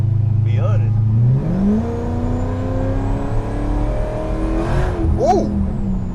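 A 1200+ horsepower Dodge Hellcat accelerates hard from inside the cabin, its engine note climbing and holding a loud, rising roar while a person talks over it.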